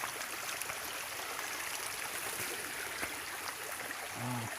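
Khao Kradong stream in Buriram flowing steadily, a continuous rushing and trickling water wash close by, with a brief faint tonal sound near the end.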